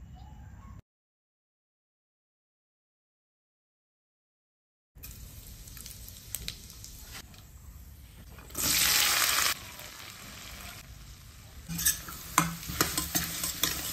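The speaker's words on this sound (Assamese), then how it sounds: "এই সৰু আলুগুটিৰ ভাজিখন ঢাকন নলগোৱাকৈ এনেদৰে অপেনলি ভাজি থাকিব লাগে" Finely cut small potatoes fry with cumin in oil in an uncovered pan, giving a soft sizzle and stirring scrapes that resume after a brief silence, with a louder hissing burst partway through.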